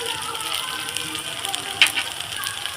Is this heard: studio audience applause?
no